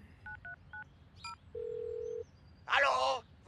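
A mobile phone in a Supa Strikas cartoon beeps through a few quick dialing tones, then gives a steady ringback tone, followed by a brief burst that is likely speech, all faint and close.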